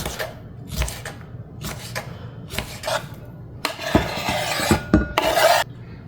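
Knife chopping fresh cucumber into medium cubes on a cutting board, a series of crisp cuts with irregular rhythm, some quick scraping strokes, close up with no talking.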